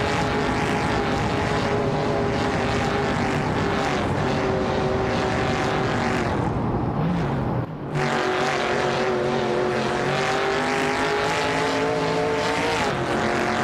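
Race cars in a racing video game, including a 1971 Ford Torino, roar continuously as loud, layered engine drones with shifting pitch, dipping briefly for a moment before the pack's engine noise resumes at full strength.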